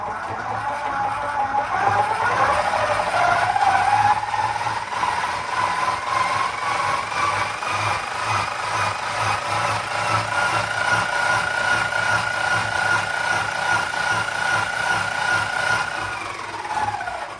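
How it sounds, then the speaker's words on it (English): Motor-driven honey extractor for a late summer harvest, set on a stool and coupled to its motor, spinning steadily with a whirring hum and a pitch that rises early on, then holds constant close by for the whole stretch. "I have my extractor on a stool to get it to the right level so that it can connect to the motor."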